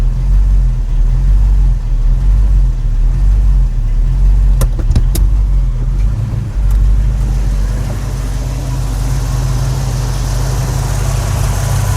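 The V-8 engine of a 1989 Chevrolet S10 pickup idles loud and close, a low steady rumble with a slight surge in it. Several sharp clicks sound partway through.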